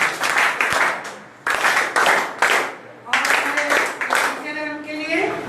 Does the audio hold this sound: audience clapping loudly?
yes